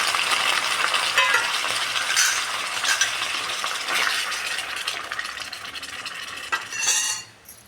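Cooked lemons tipped into a heated kadhai for quick lemon pickle, giving a steady bright sizzle with clinks and stirring scrapes throughout, fading near the end; no talking.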